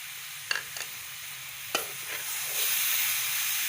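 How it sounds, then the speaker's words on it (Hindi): Grated carrot halwa roasting in a pan with almonds added, a steady frying sizzle broken by a few scraping clicks of a spoon, the hiss growing slightly louder and fuller toward the end. "2 से 3 मिनट और भूनना है"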